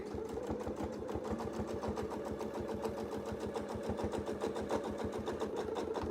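A sewing machine quilting with a Westalee ruler foot runs continuously at a steady rapid rhythm, close and moderately quiet, with no voices over it.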